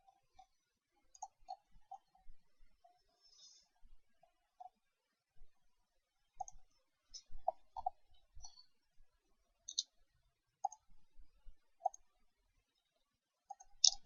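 Computer mouse clicking while working in architectural drafting software, sparse single and double clicks scattered irregularly, close and crisp against near silence.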